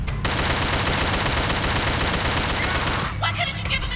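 Rapid, dense gunfire in the horror action video game The Suffering, a loud continuous volley of shots that fills the clip and thins out near the end as other game sounds take over.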